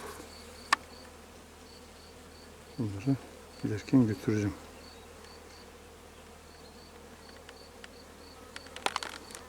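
Honey bees hum in a low continuous drone around beehives during spring colony care, with a few brief louder buzzes and knocks and someone speaking briefly in the middle.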